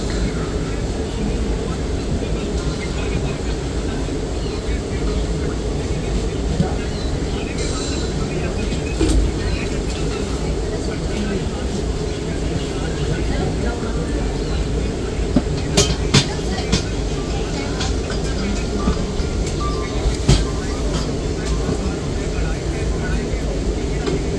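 A Bikaner–Howrah express runs steadily as heard from inside an ICF coach, a constant broad rumble and hum with occasional clicks, faint voices mixed in underneath.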